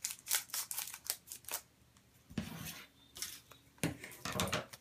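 Scissors snip along the sides of plastic packaging, a quick run of sharp close cuts followed by a few louder crunching snips through the plastic, with no talking.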